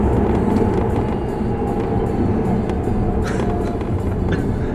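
Tesla P85D all-wheel-drive electric car accelerating at full throttle, heard from inside the cabin as a steady, loud broadband road and motor roar that holds throughout without a break.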